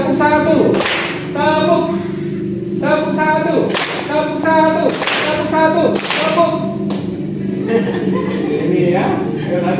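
A class claps in short rhythmic bursts of sharp, loud claps, alternating with a voice speaking and chanting "Tepuk satu" in Indonesian between the rounds.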